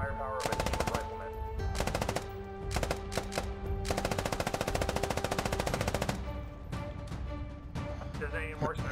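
Loud sustained machine gun bursts in the Squad military shooter game, rapid repeated automatic fire in several long strings with brief pauses between them.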